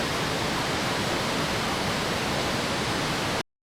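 A constant, loud roar of floodwater surges along a drowned road like a raging river, then cuts off abruptly into silence near the end.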